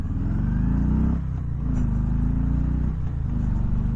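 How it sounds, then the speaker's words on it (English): A 2020 Harley-Davidson Softail Low Rider (FXLR) motorcycle on a throttle roll-on, its loud, close, low engine rising in pitch through two brief shift dips. "I'm going to sit here for a second, and I'm going to roll on throttle."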